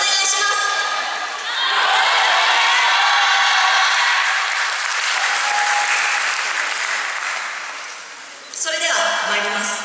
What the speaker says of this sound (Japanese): 皆様、手拍子、心拍子のほどよろしくお願いします